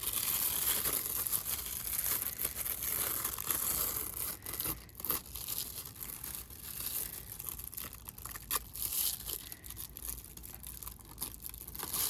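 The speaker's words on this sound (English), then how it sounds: "And then just carefully remove the plastic." Thin plastic backing film is peeled slowly off an adhesive foil sheet for embossing-folder crafting, giving a continuous close crinkling and tearing rustle that runs throughout with small crackles and no talk.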